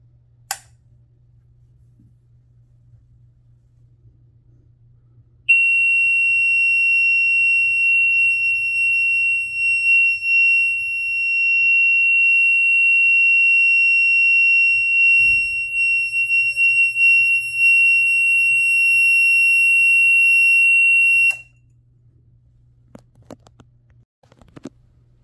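Amseco HW-24 Select-a-Horn blares a steady, piercing 3000 Hz continuous tone for about sixteen seconds, close and loud, then cuts off abruptly to near silence.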